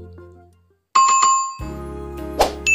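A synthetic notification bell chimes as a short bright ding followed by a ringing tone over a sustained electronic backdrop, loud and close with no voices.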